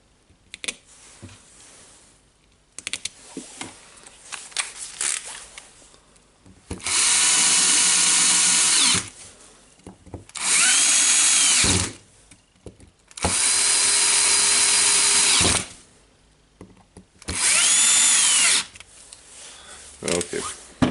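A power drill drives screws into the gear assembly of a Makita DDF484, sounding in four loud, steady bursts of a few seconds each, separated by quieter handling clicks and rustles, close up.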